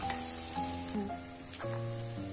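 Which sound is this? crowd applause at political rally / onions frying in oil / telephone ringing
onions frying in oil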